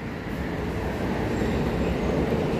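A passenger train rumbling over rails above an underpass near Pasar Senen station in Jakarta, heard from below as a loud, continuous low roar with no voices.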